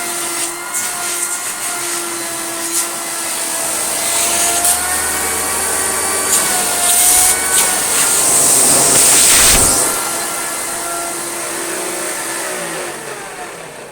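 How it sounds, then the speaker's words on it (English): A Philips U800 vacuum cleaner in need of refurbishment runs continuously, a loud steady whining motor drone that swells slightly midway with brief rattles and knocks, no talking. "Okay suction for a machine that's going to be in desperate need of a refurb."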